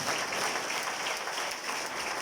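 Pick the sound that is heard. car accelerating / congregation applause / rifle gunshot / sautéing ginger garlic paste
congregation applause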